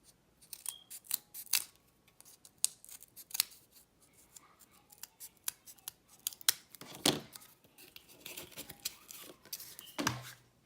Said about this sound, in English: these are just my thread scissors